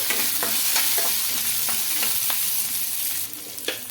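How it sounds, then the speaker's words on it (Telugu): Green chillies, garlic and ginger frying in a pan, a steady loud sizzle with periodic scraping strokes of a stirring spoon, close and continuous. "కొద్దిగా వేగిన తర్వాత పచ్చిమిర్చి ముక్కలు అయితే వేసుకుంటున్నాను"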